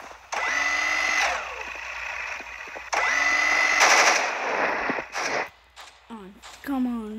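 A minigun in the Roblox-style shooter Arsenal fires in two long whirring bursts of rapid, loud, buzzing shots, each a couple of seconds long, followed by short chatter from a player.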